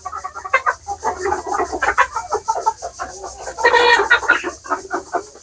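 Large-breed desi hill chickens cluck busily on a farm, a dense stream of close, uneven clucks and squawks rising into a louder burst midway.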